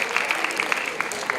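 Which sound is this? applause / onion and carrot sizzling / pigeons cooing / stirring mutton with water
applause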